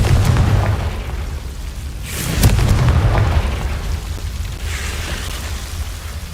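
A Confringo fire spell explosion in the Hogwarts Legacy video game, a loud booming burst around the middle with a rumbling tail, set over a dense ambient game background, followed by a softer whoosh later.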